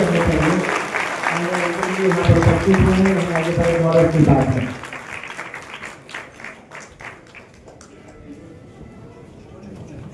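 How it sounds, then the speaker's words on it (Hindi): Audience applause at a Delhi Maharashtra Sadan celebration of Chakradhar Swami's avatar day: dense clapping runs under a voice on a loudspeaker, then dies away after about five seconds, leaving quieter room sound. "जोरदार तालियां बजती रहनी चाहिए।"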